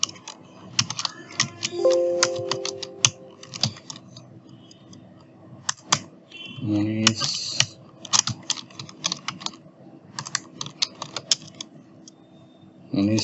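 Rapid clicking on a computer keyboard in bursts of typing with short pauses, close up, with a few brief faint sounds in between.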